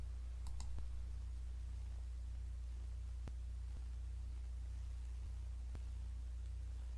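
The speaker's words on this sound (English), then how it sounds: "let's click install" A computer mouse clicks a few times, sparse and faint, over a steady low electrical hum while CCleaner software is installed.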